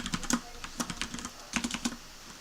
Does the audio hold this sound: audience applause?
no